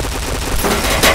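Rapid automatic gunshots in the video game Point Blank, a dense burst of fire lasting about a second, loud and close.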